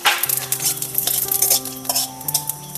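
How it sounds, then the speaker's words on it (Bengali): Cumin, dried chilli and panch phoron frying in hot mustard oil, with a close sizzle and a spoon stirring and scraping the pan. "তেলটা কিন্তু গরম হয়ে গেছে, আর এর মধ্যে আমি জিরে, মরিচ এবং পাঁচফোড়নটাকে ভেজে নেব"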